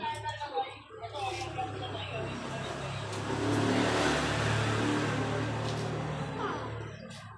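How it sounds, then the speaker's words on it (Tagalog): A motorcycle passes on a road, its engine swelling from faint to louder in the middle and then fading away, heard at a distance under nearby people talking. "Ay, motor na naman!"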